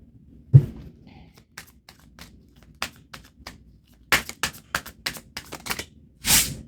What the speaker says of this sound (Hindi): सारे कार्ड्स गिर रहे हैं।